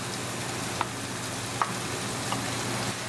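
Spiced tomato sauce with tadka sizzles in a pan for a curry, a steady close frying hiss with a few small pops and stirring clicks, no voices.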